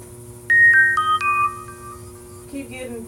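A phone's message notification tone rings out as a short run of bright, clear chimes, followed by a softer, fainter set of tones over a steady low hum in a shirt-printing workspace.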